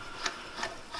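A balloon regulator is hand-screwed onto a gas tank, with three faint, evenly spaced rubbing clicks of the threads turning, quiet and close.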